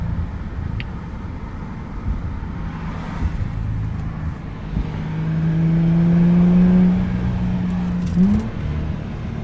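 A Subaru Liberty 3.0R with an EZ30 flat-six boxer engine and a six-speed STI gearbox revs through gear changes, its engine note climbing in pitch and dropping, heard nearby over road rumble.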